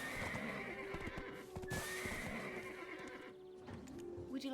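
A horse in Black Desert Online neighs loudly over steady clip-clop hoofbeats, with the whinny rising mid-clip and the hooves continuing alongside against a dense game soundscape.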